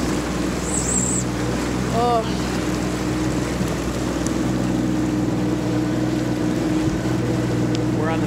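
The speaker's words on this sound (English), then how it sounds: "Here comes more boats." A steady motorboat engine drone fills the scene with a wash of water on the St. Johns River, and a voice briefly exclaims; distant boat noise continues throughout.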